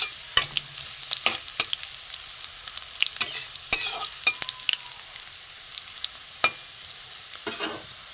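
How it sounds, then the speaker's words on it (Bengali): Spices and garlic fry in hot oil with a steady sizzle, broken by sharp scraping stirs and clinks of a spoon against the pan, close up. "দিয়ে আমি মশলাটা উপরে ফোড়নটা একটু ভাজা ভাজা হোক রসুনের সাথে"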